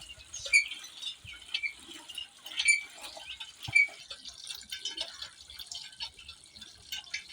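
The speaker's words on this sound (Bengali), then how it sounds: "তো জল প্রায় হয়ে যাচ্ছে আর একটু বাকি আছে" Water trickles and splashes into a container being filled for a bath, with light irregular drips and spatters that are faint and intermittent.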